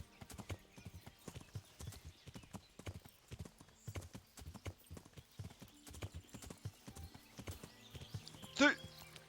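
Horse hooves clip-clopping steadily through a Kingdom Come Deliverance game world, a near, regular galloping rhythm with a brief whinny near the end, under a player's intermittent talk.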